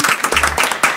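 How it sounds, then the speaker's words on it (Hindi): Applause and clapping from an audience after a Hindi song performance in an Antakshari singing contest, a brief burst of mixed claps with a faint voice underneath. "जोरदार तालियां"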